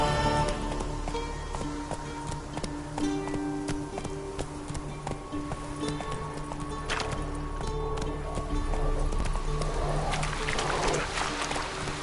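Hooves of Geralt's horse Roach clip-clop in a steady galloping rhythm through the world of The Witcher 3: Wild Hunt, moderately close over faint ambient game music.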